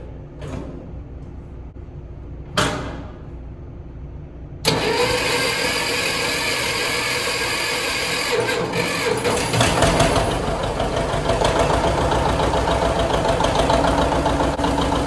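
A 730 tractor engine cranks with a couple of brief whirs, then fires up loudly and settles into a steady, rattling idle close by.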